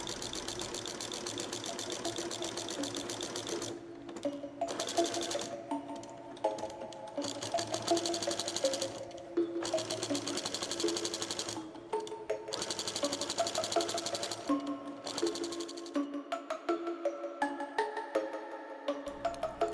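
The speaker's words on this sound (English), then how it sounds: "I set my tension to 4, and now we can start sewing." A sewing machine stitches the side seam of a skirt, running in repeated bursts of rapid mechanical whirring and chattering, close and clear with short pauses between runs and no talk.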